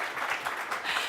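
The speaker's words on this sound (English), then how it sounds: "I think we should at least give him a round of applause" An audience at a hydrogen industry forum applauds a speaker walking off stage, a short stretch of soft, even crowd clapping heard from some distance.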